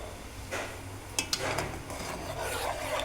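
A spoon stirs ghee into a sweet dish in a pan, scraping and rubbing against the metal in a few uneven strokes, with a couple of sharper clinks midway, fairly quiet and close.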